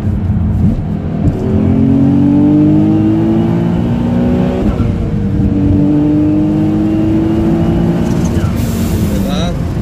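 Nissan 350Z tuned to 300–650 hp accelerating hard in third gear, a loud close engine roar rising in pitch through two pulls, heard from inside the car with voices talking over it.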